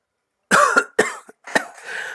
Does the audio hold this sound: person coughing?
yes